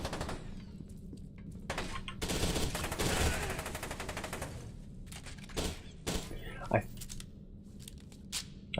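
Enemy gunfire in the shooter game F.E.A.R. 2: Project Origin, with dense bursts of shots peaking in a sustained volley, then scattered sharp cracks and impacts over ongoing game noise and voices.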